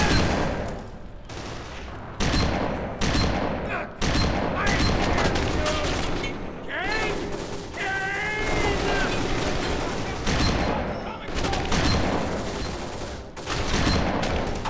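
Shotgun blasts in the video game Kane and Lynch 2: Dog Days, loud and close, fired in rapid repeated volleys that overlap with other gunfire and excited talk throughout.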